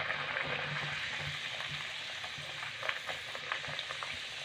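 Green pea kochuri deep-frying one at a time in hot oil, a steady close sizzle with light crackles and bubbling throughout, no voices.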